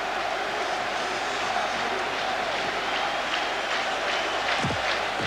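A Brussels football crowd cheers and applauds a Claesen hat-trick, a dense, steady roar of voices and clapping that fills the whole stretch at an even level.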